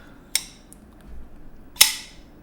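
A folding knife with a nested liner lock is flicked open, giving two sharp, crisp metallic snaps about a second and a half apart, close and clear against quiet.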